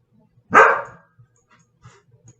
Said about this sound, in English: dog is at the door.